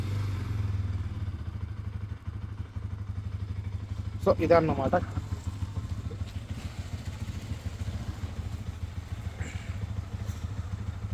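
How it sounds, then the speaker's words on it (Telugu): A Bajaj Pulsar NS200 motorcycle engine idles with a steady low drone throughout, while someone talks over it. "సో బైక్ అయితే ఆన్ చేద్దాం."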